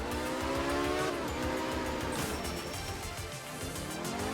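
Rally car drifting in the Art of Rally video game, a revving engine with rising and falling pitch sweeps and tire squeal as the car slides, loud and steady without talk.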